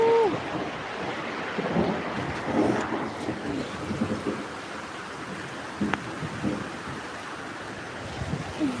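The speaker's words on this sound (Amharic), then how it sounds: "ዝናቡም በጣም ከባድ ነው።" Heavy rain pouring steadily outdoors with low rumbles of thunder rolling underneath, a dense continuous wash of sound with occasional louder swells.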